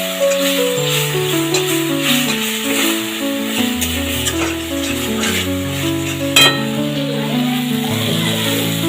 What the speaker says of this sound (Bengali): মশলাটা আমার ভালো করে কষে গেছে